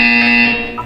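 Electronic buzzer in the video game Portal 2, a loud sustained tonal buzz lasting most of a second before fading, with a brief higher blip at the end.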